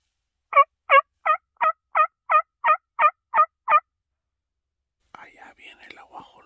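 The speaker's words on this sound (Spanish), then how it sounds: "empezaron a cantar los guajolotes. Aquí andan cerquititas los guajolotes" Rio Grande wild turkeys gobble at dawn during a hunt, a quick run of ten sharp, evenly spaced calls ringing out clearly against silence, followed by soft whispering nearby.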